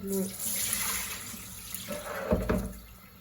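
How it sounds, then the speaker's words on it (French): Tap water runs steadily over couscous grains being rinsed in a kitchen, a continuous close rushing splash that swells with a louder slosh near the end before easing off. "On va mettre bien de l'eau dessus, histoire qu'il n'y a plus de poussière."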